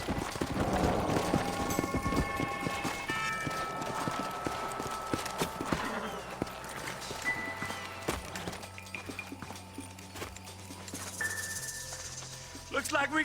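Horses' hooves clip-clop at a run in the Western video game Red Dead Redemption, a steady hoof rhythm mixed with game music and ambience and some voices over it.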